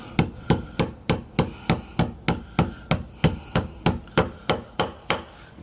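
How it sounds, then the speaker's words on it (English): Lead anchors are hammered into drilled holes during a house renovation: a steady run of about fourteen sharp, evenly spaced metallic strikes, close and loud, with no talking. "fucking hammer that bitch in"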